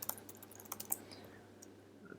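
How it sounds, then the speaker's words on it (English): Soft keystrokes on a computer keyboard, a few quick taps and clicks clustered near the start and then trailing off, faint over a steady low hum. "click once and type in your subtext"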